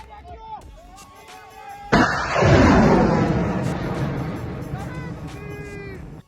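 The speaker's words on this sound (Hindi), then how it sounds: "इसमें जो पाकिस्तानी मिसाइल लॉन्च कर रहे थे वो फतेह 2 मिसाइल था" A Pakistani Fateh 2 missile launches with a sudden loud blast, then a long roaring rush that slowly fades. Voices and babble are heard before the blast and again as the roar dies away.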